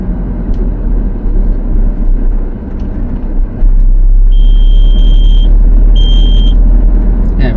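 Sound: GPS navigator warning beep on a curve

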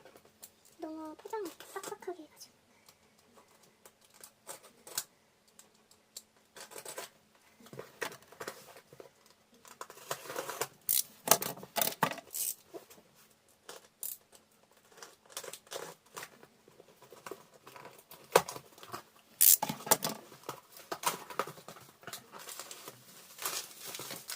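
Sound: tearing open a delivered parcel

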